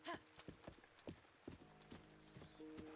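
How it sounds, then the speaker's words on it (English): Horse hooves clip-clop in a steady, moderately close rhythm of separate thuds across a Zelda-style video game landscape, with a soft whinny-like tone and faint game music underneath. "Good horsey."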